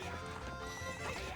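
Horse galloping in The Legend of Zelda: Ocarina of Time, rapid rhythmic clip-clop hoofbeats with a neigh, faint and close, no talking.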